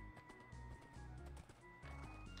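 Horse hooves clip-clopping in Minecraft, a quick rhythmic trot of repeated soft thuds, steady and close, with no voices.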